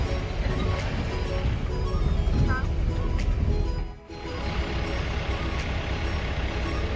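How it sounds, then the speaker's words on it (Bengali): A car descends a wet mountain road in rain, with steady, close engine and tyre noise throughout and a brief dip in level near the middle. "এই যে এরকম একটা রাস্তা দিয়ে এটা নেমে চলছে আমাদের গাড়ি প্রচুর রিস্ক তার মধ্যে এখন বৃষ্টি পড়ছে রাস্তা পুরো ভেজা"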